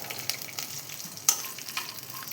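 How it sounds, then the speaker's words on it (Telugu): Roasted peanuts frying in oil, a bright sizzle broken by quick scraping stirs and a few sharp crackles, one louder clatter near the middle, close and alone. "ఇట్లా వేయించుకుంటున్నానండి ఇట్లా వేయించుకుండడం వల్ల ఆయిల్లో అయితే ఫ్రై అవుతుంది"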